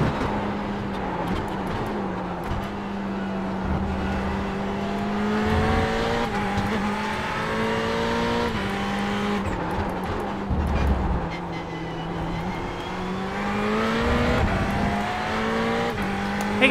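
A Ferrari 488 GT3 race car screams around Le Mans on its final lap, engine pitch sweeping up and down through gear changes and braking zones, loud and continuous with no talking.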